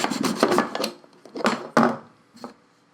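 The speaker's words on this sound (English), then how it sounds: "So I have to cut this long dowel in half." A long, soft basswood dowel is sawn in half by hand, giving a series of close, rasping strokes in bursts with brief pauses between them.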